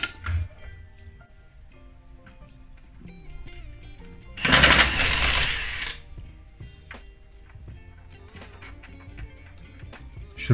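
Metallic clinks and tool taps sound while the crankshaft pulley bolt is removed from an Opel Z14XEP engine, with a loud burst of rattling, whirring tool noise in the middle.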